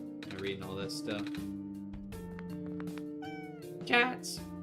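Several cats meowing in the video game OneShot, a string of overlapping pitched meows and rising mews over a soft background tune, with one louder cry near the end.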